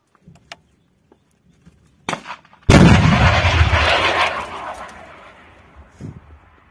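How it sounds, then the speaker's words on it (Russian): After a few faint clicks and a sharp crack, a Stugna-P anti-tank guided missile launches in a loud blast that roars away over several seconds, fading into quiet. "Внимание, выстрел!"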